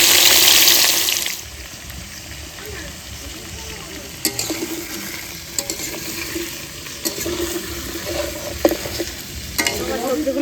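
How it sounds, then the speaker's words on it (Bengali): Vegetables sizzle in hot oil in a wok while a utensil scrapes and stirs them in sharp, irregular clacks; a loud hiss opens, then the frying settles under intermittent stirring knocks and a voice. "বেগুন ভাজা হয়ে গেছে এবার সবজিগুলো ভেজে নেব"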